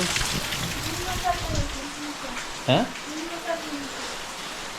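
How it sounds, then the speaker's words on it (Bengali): Dense, steady rain roars in the background while a person speaks briefly over it. "প্রচণ্ড জোরে বৃষ্টি হচ্ছে"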